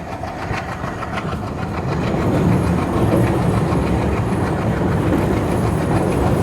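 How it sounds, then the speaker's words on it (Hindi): A passenger train crosses the Kosi river bridge after leaving Nirmali station in Bihar, with a steady, loud rumble and rhythmic wheel clatter that builds slightly and continues without talk. "फ़िलहाल अभी हमारी ट्रेन कोसी नदी को क्रॉस कर रही है"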